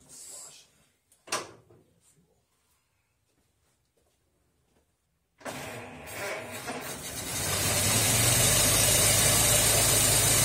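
Ford Model T engine after a valve job, started with the radiator off: a few faint clunks and bumps, then the engine catches and settles into a loud, steady, rumbling idle that grows stronger.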